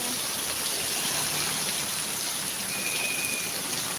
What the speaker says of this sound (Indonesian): Oh, makin kencang hujannya teman-teman.